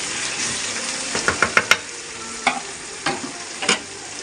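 Kerala-style chicken curry stirred in a pan, with a cluster of sharp scraping clinks against a soft sizzling bed, then a few more spaced strokes, close and fairly loud with no talking.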